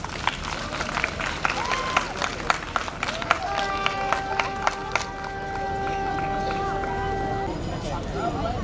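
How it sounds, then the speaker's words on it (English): An audience at an International Day of Yoga gathering in Durban claps steadily for a speaker, a continuous round of applause with crowd murmur, while sustained tones play over it midway. "Please can we have a warm round of applause"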